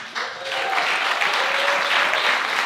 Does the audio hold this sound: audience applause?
yes